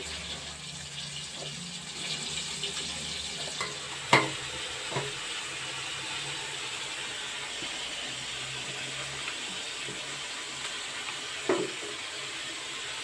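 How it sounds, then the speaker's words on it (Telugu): Telugu tempering of spices sizzling in hot oil for a spicy chutney, a steady low frying crackle with a few sharp pops and stirring clinks, close and alone. "ఇంకా తాలింపు చేస్తున్నా"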